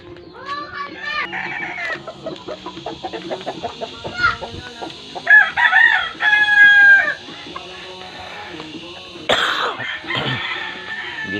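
Pet chickens and roosters in a backyard coop, with repeated clucking and several crowing calls at close range, loud and irregular, with scattered rustling and a brief human voice.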